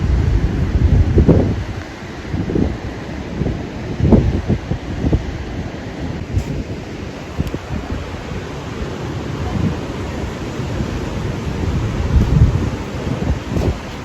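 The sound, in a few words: wind at Newcastle Beach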